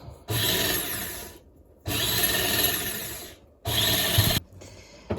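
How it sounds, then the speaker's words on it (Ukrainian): Three loud bursts of a jigsaw being repaired, run in short spells with brief silent pauses between, close by and harsh. "чоловік ремонтує лобзик"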